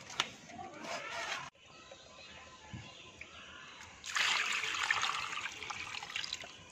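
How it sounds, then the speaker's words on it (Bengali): Chicken meat being washed under running water makes a splashing tap stream that gushes briefly, cuts off for a few quiet seconds, then returns more strongly and keeps flowing close by. "মাংসগুলো এলা ধোয়া চলছে"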